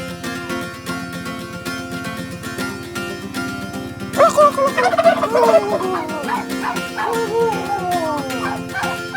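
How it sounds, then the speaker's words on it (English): Turkeys gobble loudly in a burst of rattling calls at a Filipino farmhouse, over a constant background drone, with dogs yipping nearby. "Let's go see the turkeys."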